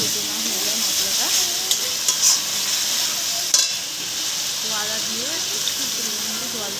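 Ghugni, a dried-pea curry, fries in a pan after ginger paste goes in, with a loud steady sizzle and the repeated scrape of a spoon stirring. A voice speaks faintly in the background.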